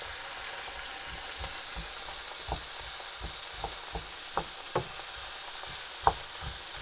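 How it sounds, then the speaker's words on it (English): Vegetables being stirred slowly as they soften in a pan for sausage casserole, with a steady soft sizzle and scattered clicks and scrapes of the stirring utensil, close and alone without talk. "Stir the whole thing round slowly."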